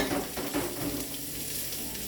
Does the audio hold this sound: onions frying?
yes